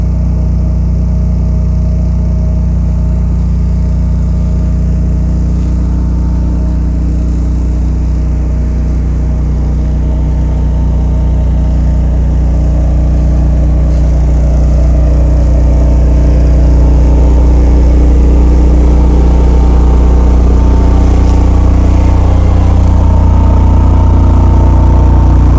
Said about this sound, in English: You got the noise of my load bank as well, so it's not all the generator.